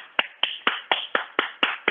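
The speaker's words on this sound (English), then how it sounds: "Audible clapping." A single pair of hands claps eight times at a steady, even pace, each clap sharp and close, with brief quiet between.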